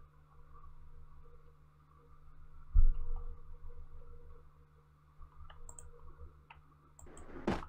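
A computer mouse clicks quietly at a desk, with sparse single clicks spread out over a low background hum and a sharper cluster of clicks near the end.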